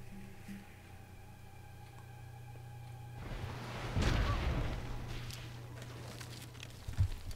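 Cannon fire from a unit in the strategy game Civilization 5 (Gods and Kings): after a stretch of sustained tonal music, a heavy booming blast bursts out near the midpoint, followed by a second sharp thump near the end.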